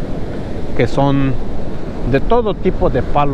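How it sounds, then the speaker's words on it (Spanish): Ocean waves breaking on Oxnard beach in California, a continuous loud roar of surf and wind buffeting the microphone, with someone talking over it throughout. "estas grandes olas que sale del mar"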